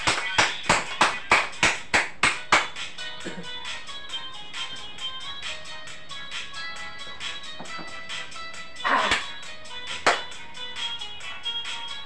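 A steady run of loud, evenly spaced hand claps for a dance performance, about a dozen in quick rhythm, then thinning into fainter, irregular clapping with a couple of louder bursts later.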